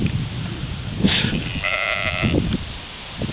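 Sheep bleat loudly and close by, two drawn-out wavering calls, one brief and one longer, over rustling outdoor ambience.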